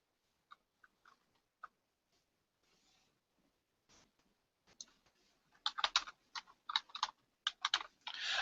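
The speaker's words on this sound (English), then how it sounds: "Just type in your question. And your answer choices." Quiz question and answer choices being typed on a computer keyboard, starting with sparse, faint key taps and building into quicker, louder bursts of close clicking keystrokes.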